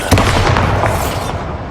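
A Bombarda spell blast in the video game Hogwarts Legacy, a single loud booming explosion with a sharp onset that rumbles and fades over about a second and a half.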